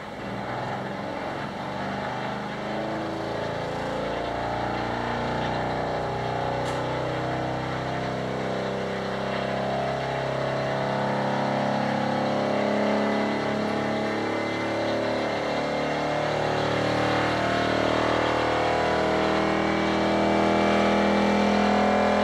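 A lumber mill engine turning over and running at its first power-up: a continuous, steady mechanical drone with a low throbbing rumble, sustained and fairly loud for the whole stretch, with no talking.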